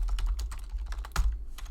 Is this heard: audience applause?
no